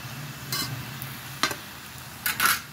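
Pakbet vegetables being stirred in a pan, a few separate scraping strokes of the utensil over a faint sizzle, the last strokes louder and closer.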